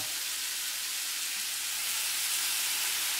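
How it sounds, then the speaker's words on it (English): Squid stir frying in a hot pan, a loud continuous close sizzle with a dense steady hiss and no break. "kind of stir fry them a little bit, kind of browning them a little bit"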